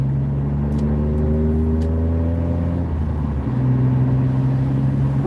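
A car driving along a road, interior engine hum and tire rumble sustained throughout, with a shifting engine tone as it changes speed, steady and fairly loud with no talking.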